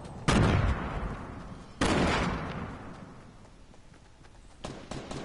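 Two heavy gunshot blasts ring out in a video game, each trailing into a long echoing decay, and a fainter shot follows near the end.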